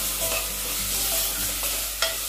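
Dal lentils roast in a pan with ground coriander, chilli, garam masala and salt, giving a soft continuous sizzle broken by a few light scraping stirs, close and fairly quiet with no talk.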